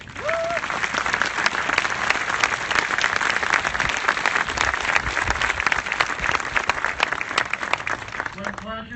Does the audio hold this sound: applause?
yes